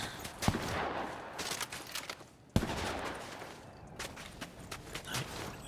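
Gunfire in an online shooter video game, a few sharp distant shots and short bursts scattered over a noisy background, faint and with no voices over them.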